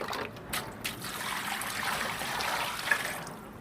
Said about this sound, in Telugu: చల్లనీళ్ళు పోసుకోవాలి.